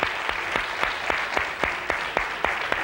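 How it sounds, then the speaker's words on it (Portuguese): Studio audience on a Portuguese TV show gives a big round of applause, a loud continuous patter of many hands with a few sharper claps standing out at a fairly steady pace. "Uma grande salva de palmas."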